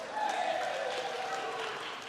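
An audience at a sponsor launch at the State Library of Victoria applauds, a soft, steady wash of clapping heard faintly from a distance, with a voice talking over it.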